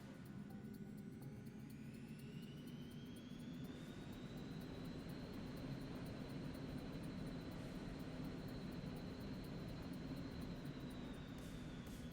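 A jet airplane taxiing on the runway at Denver, its engines whining and droning steadily for the whole stretch, with a rising then level turbine tone over a broad, constant rumble and no voices.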